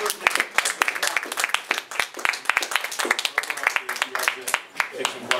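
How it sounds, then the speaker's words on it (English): An audience at an Actors Studio Q&A celebrity weekend event claps steadily, a dense run of sharp handclaps filling the room throughout. "I think we should have a round of applause"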